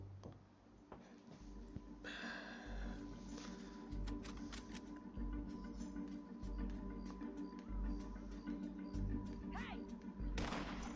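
Rapid gunfire in the Western game Red Dead Redemption 2 crackles as dense, overlapping shots across a steady low rumble, with voices talking intermittently alongside.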